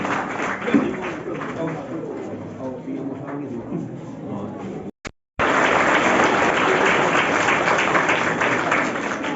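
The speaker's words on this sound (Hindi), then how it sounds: "जोरदार तालियां" An audience at a school Veer Baal Diwas event breaks into applause, a loud, steady wash of clapping that swells after a brief cut, with a voice speaking over the first part.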